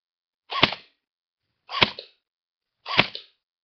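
An airsoft gun fires at body armor, producing three sharp, evenly spaced pops at about one-second intervals, each short and crisp against silence.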